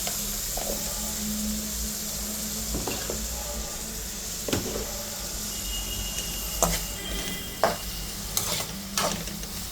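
Kashmiri chilli being sautéed in a pan, a continuous close sizzle with repeated spoon scrapes and clinks against the pan at an uneven pace.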